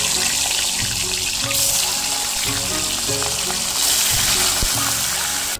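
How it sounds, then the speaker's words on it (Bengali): Paneer frying in oil left over from frying potatoes, a steady close sizzle and crackle running throughout with occasional sharper pops. "এই তেলের মধ্যে আমি এখন পনিরটা ভেজে নেব।"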